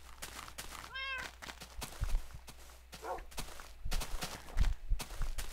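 A single Minecraft cat meow rises clearly around the one-second mark in a survival hardcore game, amid soft in-game footsteps and low thumps, with no talking.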